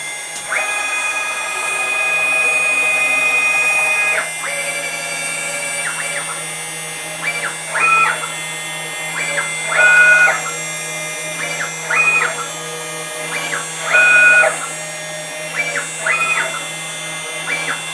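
A CNC router whines steadily as it cuts metal on a 6040 machine, then continues in shorter high-pitched bursts with brief pauses between passes.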